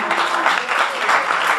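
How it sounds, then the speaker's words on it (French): Audience applause for a poet at a poetry slam in Bagnolet, a dense, steady wash of clapping hands throughout a short burst, fairly loud and close with no voice over it. "Applaudissez le poète s'il vous plaît."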